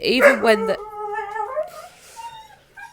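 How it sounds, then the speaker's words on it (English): A dog at home barks excitedly in the early morning at a tractor passing outside, giving a few loud, close yelping barks at the start before a person begins talking over the fading whine. "Sorry, excuse the dog."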